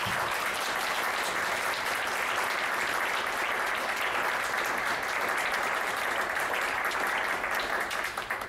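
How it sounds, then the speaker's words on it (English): An audience at a campus talk claps steadily in a dense, sustained round of applause that holds at an even level throughout before tapering slightly at the end; no voices stand out above it. "Round of applause one more time."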